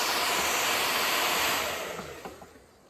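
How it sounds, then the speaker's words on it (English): A hair dryer blows with a steady, broad whooshing hiss while removing vinyl pinstripes from a vehicle, then winds down and fades out over the last second. "Don't damage the wife's hairdryer"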